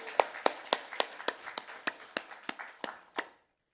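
A church congregation claps in a steady rhythm of about a dozen even, crisp beats, close and fairly quiet, before the sound stops.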